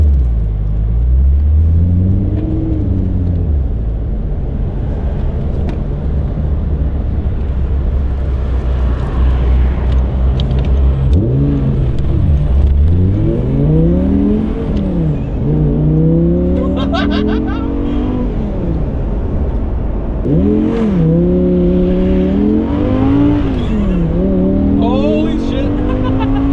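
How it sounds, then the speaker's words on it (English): Audi R8 V10 revving hard inside an underpass, loud rising and falling engine howls that sweep up and down in pitch several times, echoing over a constant cabin rumble. "That V10 in that freaking underpass sounded like none other"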